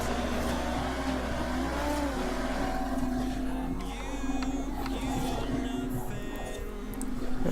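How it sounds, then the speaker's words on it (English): A Jaguar F-Pace overtakes in Forza Horizon 4, its engine a steady, continuous drone holding under low rumble with a faint whine rising near the end, no speech heard. "As a white F-Pace now overtakes us."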